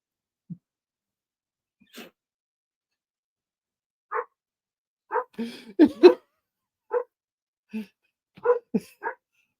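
A handful of short, sharp barks from a small dog, spaced out with brief pauses, some coming in quick pairs, fairly close by.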